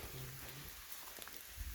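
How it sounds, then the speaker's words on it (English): Rain falls outdoors in the wilderness, a steady, dense hiss with no clear individual drops and no voices. "Pouring rain."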